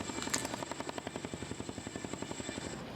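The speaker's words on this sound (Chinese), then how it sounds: "由 CH-47SD 直升机吊挂史上上大的国旗进场" A CH-47SD tandem-rotor helicopter carrying a giant national flag flies in for a National Day parade, its rotor blades thudding in a fast, steady rhythm, loud and continuous with no talk.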